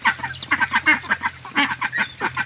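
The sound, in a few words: ducks and chickens calling at home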